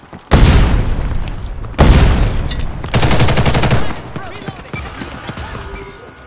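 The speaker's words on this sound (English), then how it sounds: "tossing grenade." Heavy booms from grenade explosions followed by sustained bursts of rapid gunfire in the shooter game Ghost in the Shell: First Assault, loud and close, fading into quieter scattered game effects.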